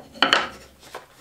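Sandpaper on a block rubbed up and down a wooden runner of a plywood bandsaw sled, giving two quick scraping strokes close by, then a fainter third rub after a pause.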